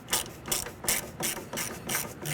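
A ratchet snugs up the outer tie rod nut on a 2003-2011 Honda Element, giving five quick bursts of crisp, close mechanical clicking in a regular rhythm.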